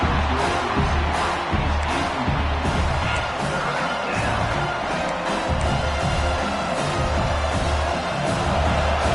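A home crowd at a football video game roars steadily and loudly throughout, a dense wash of cheering with no break.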